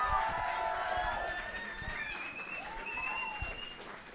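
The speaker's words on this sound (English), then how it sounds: "So big round of applause for all the candidates for all the positions" Students at a union election results night clap for the candidates, a busy patter of hands that fades gradually as whoops and whistles rise over it, with voices mixed in.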